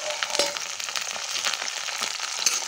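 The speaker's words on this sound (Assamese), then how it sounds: "আৰু এতিয়া মই ইয়াতে গজালি ওলোৱা বুটকেইটাও দি দিছোঁ" Sprouted chickpeas sizzle and spatter in a hot pan of oil, a dense, close crackling with scattered sharp pops throughout.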